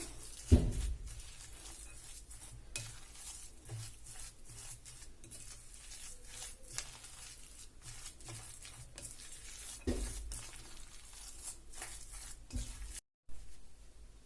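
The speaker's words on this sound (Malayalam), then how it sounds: "നമുക്കിതെല്ലാം കൂടി നന്നായിട്ടൊന്ന് മിക്സ് ചെയ്തെടുക്കാം." Parippu vada dough of ground lentils being mixed by hand in a bowl, giving a steady, close squelching and rustling with soft repeated pats throughout, and a brief dropout near the end.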